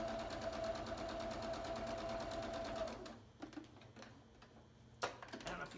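A sewing machine chain piecing quilt block scraps runs in a fast steady stitching whir for about three seconds, then stops, leaving faint clicks and handling noises with one sharp knock near the end.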